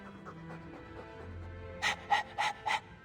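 Four sharp, close dog pants from Dragon Age 2 come in quick succession after a quiet stretch of low game ambience.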